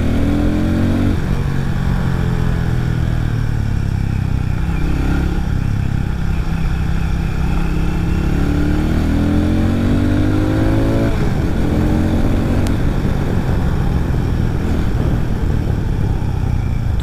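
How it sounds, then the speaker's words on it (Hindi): A Hero Mavrick 440 motorcycle's 440cc engine idles and revs steadily, a deep, bassy throbbing rumble with a few rising revs, loud and close, no voices. "तो ये 440 सीसी का इंजन काफ़ी बेस के साथ में आता है"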